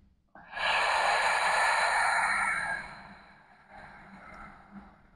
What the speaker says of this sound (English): breathe out through our mouth like we're blowing out a birthday candle with an abdominal contraction